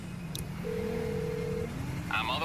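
Phone tones in GTA V as the player's in-game cellphone dials a mechanic: a steady electronic tone of about a second, then a brighter chirping tone pattern at the end, over a low game background hum.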